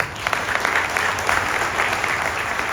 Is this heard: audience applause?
yes